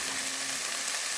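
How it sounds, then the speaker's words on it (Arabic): Onion and dill sizzle in a hot pan, a steady dense hiss of frying with no voices. "اول مره احمس البصل والشبنت"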